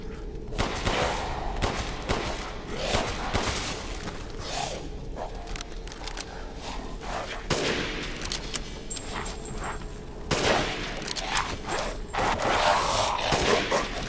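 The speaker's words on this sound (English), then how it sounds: "I'm actually glad that this handgun actually shoots much quicker now" A handgun fires in the video game Resident Evil Village, with repeated sharp shots at irregular intervals throughout and some heavier thuds mixed in.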